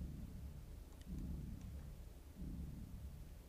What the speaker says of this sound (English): it's a dark and stormy night again